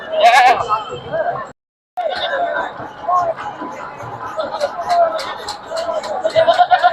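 Goats bleat repeatedly amid the hubbub of a busy rural goat market, with nearby voices chattering over the animals and a brief gap of silence early on.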